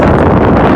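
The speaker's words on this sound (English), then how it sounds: "You guys say it's windy, it's very windy." Strong wind from a wind storm roaring across the microphone of someone riding an electric scooter fast; a loud, constant low buffeting rush with no other sounds, lasting under a second.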